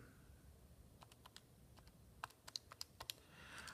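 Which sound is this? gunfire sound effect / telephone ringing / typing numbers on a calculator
typing numbers on a calculator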